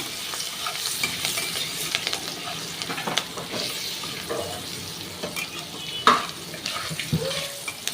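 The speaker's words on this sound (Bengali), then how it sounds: "প্রথমে আমি কালো জিরে দিলাম তেলের ওপরে তারপরে আমি সামান্য একটু পেঁয়াজ দিয়ে দিলাম" A little onion fries in oil with nigella seeds over a high gas flame, a steady close sizzle broken by stirring clatter and a sharp scrape near the end, without talk.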